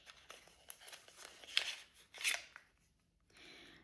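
A Too Faced lip gloss package being opened up close, with a quiet series of crinkles and small clicks, two louder rustling bursts in the middle, and a soft slide at the end.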